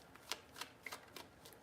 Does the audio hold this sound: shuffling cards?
yes